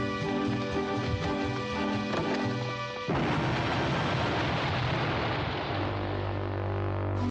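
A cartoonish bomb explosion effect from the 1960s Batman TV show, a booming blast partway through that swells into a long rumbling roar over a background music bed, with no talk.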